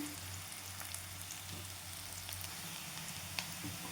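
Chopped onion sizzling steadily in a pan while a wild monsoon vegetable curry is cooked, a constant soft frying hiss with faint crackles and no talk.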